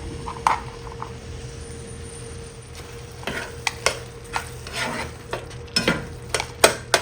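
A spoon stirs a melted pepper jack cheese mixture in a pan for a low-carb dinner, giving close, irregular scraping and swishing strokes with a faint sizzle underneath and no voices.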